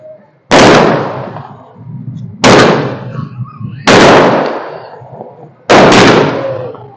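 Four loud, sharp firecracker bursts spaced about one to two seconds apart, each followed by a crackling, fading tail, heard close by and outdoors.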